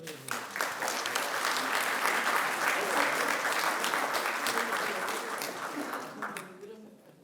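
Audience applause at a lawyers' bar association induction ceremony in Lima: a loud, dense burst of clapping that holds steady for several seconds, then thins and fades out near the end.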